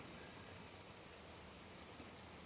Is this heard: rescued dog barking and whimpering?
no